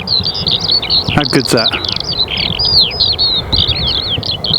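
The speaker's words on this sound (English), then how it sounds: "I don't know what type of bird that is." Birds chirp and trill in repeated high notes at sunrise near Chesterton Windmill, fairly close and continuous, with someone speaking briefly over them.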